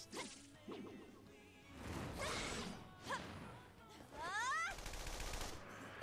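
Gunfire and combat effects from the Persona 5 Strikers finale battle: sharp whip-like cracks, swooshes and rapid bursts of shots stacked over game music, with a dense, loud stretch of fire near the end.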